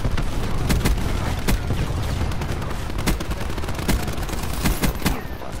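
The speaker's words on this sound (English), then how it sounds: "Sentry gun got him off B." Sustained sentry gun fire in a multiplayer shooter, a steady loud stream of rapid shots with sharper cracks punctuating it, no speech.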